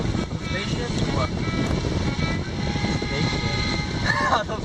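Airplanes drone overhead during a Minnesota road trip, a broad continuous engine roar heard from inside a moving vehicle over road noise.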